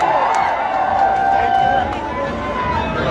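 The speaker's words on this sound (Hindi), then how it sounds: "एक बार जोरदार तालियां कल्याण ज्वेलर्स की टीम के" Dense crowd at a Kalyan Jewellers showroom opening event in Sitamarhi cheers and claps in a steady, loud roar of many voices with a few brief whistles over the din.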